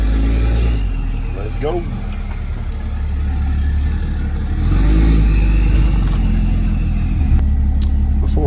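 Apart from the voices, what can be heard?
car passing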